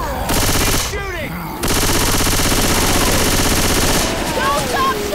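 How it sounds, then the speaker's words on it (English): Loud, sustained automatic gunfire in the video game Left 4 Dead 2, rapid continuous bursts with a brief pause, voices shouting in between. "Keep shooting!"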